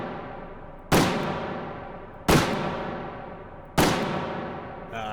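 Three heavy booming shots from an oversized Bull 454 revolver in H3VR, evenly spaced and loud, each with a long ringing decay.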